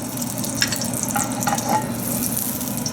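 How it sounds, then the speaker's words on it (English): Ghee sizzles in a hot pan while prawns are fried for a malai curry, a dense, steady frying crackle with light scraping and stirring, close and continuous with no talking. "Pan is hot. We'll put a little bit of ghee,"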